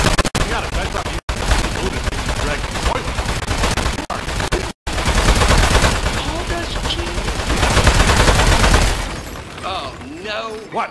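Rapid gunfire blasts away at metal robot enemies in the video game Aperture Desk Job, loud and sustained across most of the stretch with brief dropouts, while characters talk over it.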